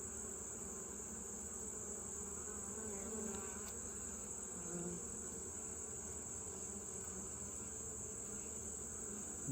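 Bees buzzing steadily in a dense swarm around an open hive during an inspection, a close, continuous drone with no talking.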